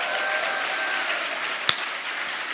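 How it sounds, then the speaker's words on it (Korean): A concert audience at a church evangelism festival claps in a steady wash of applause, fairly even in level throughout, with one sharp louder crack partway through and no voices. "박수 쳐주세요."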